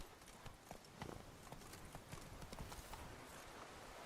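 Roach, the horse in The Witcher 3: Blood and Wine, gallops in a quick, continuous drumming of hooves, quiet overall and alone with no voices.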